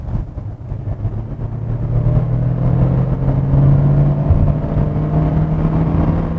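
A new KGM Actyon accelerates with its active exhaust sound switched on, a close engine note swelling into a steady mid-pitched drone with a gradually rising tone over road rumble, no talking.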